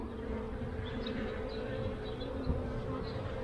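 Honey bees swarm around an open beehive being worked by a beekeeper, a dense, steady buzzing drone that holds close and constant throughout with no pauses.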